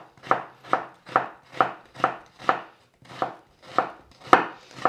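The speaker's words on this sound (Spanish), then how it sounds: "vamos a cortar la cebolla pues en medias lunas más o menos" A knife slices an onion into thin half-moons on a cutting board, eleven crisp, evenly spaced chops landing close and alone at a steady rhythm.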